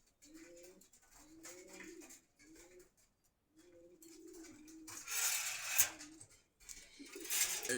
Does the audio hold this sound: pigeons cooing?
yes